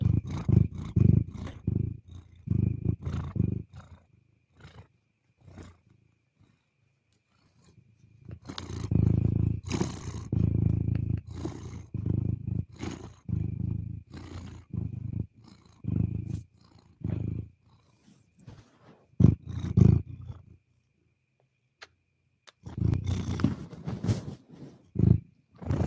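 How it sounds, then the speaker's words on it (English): A pet cat named Luna purrs loudly and close up in long rumbling waves, with short pauses between breaths and no talking. "Are you purring so loud?"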